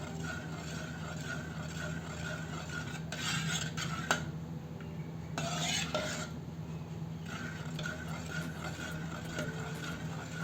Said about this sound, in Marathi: फूड कलर आहे हिरवा चांगल्याने मिक्स करून घेऊ